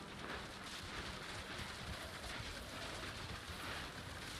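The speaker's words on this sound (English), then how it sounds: "The rain came down in buckets then," Heavy rain in the video game What Remains of Edith Finch pours down in a steady, dense wash of noise, unbroken from start to finish with a faint low rumble beneath.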